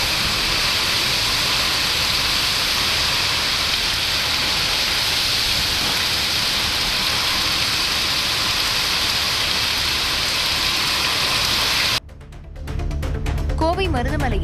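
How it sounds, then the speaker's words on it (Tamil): Heavy, unrelenting rain during a thunderstorm pours down as a dense, loud, continuous hiss for most of the stretch, then cuts away abruptly near the end. "இடி மின்னலுடன் இடைவிடாத மழை கொட்டி தீர்த்தது"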